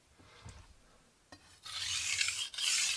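A Wusthof kitchen knife blade is drawn across a VENEV diamond sharpening stone: a quiet start, then steady, close, gritty rasping strokes with a brief break.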